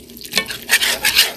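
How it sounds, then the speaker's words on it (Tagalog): A spoon stirs bamboo shoots (labong) simmering in coconut milk in a pot. The scraping and swishing comes in a few quick, close strokes with a soft bubbling underneath, and no one talks. "hinalo natin yung labong"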